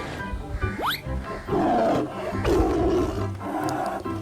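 A tiger roars in a children's animal-transformation video game, one loud sustained growling roar rising after a brief high sweep, with no talk over it.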